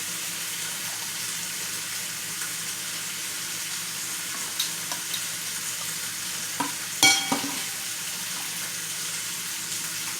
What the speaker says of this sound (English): while those are still frying